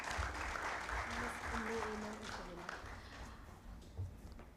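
An audience at a medical trauma conference award ceremony claps in a steady, moderately distant round of applause that gradually thins out, with some murmuring voices beneath.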